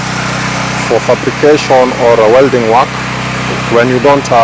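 A generator running on a building site to power fabrication and welding machines, a steady low engine hum droning continuously beneath someone talking close by.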